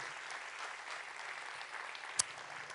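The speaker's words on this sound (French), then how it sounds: "Avancez-vous pour recevoir quelques applaudissements supplémentaires." Quiet, distant applause from an audience honouring an award winner at a regional business awards ceremony, even continuous clapping with one sharp knock near the end.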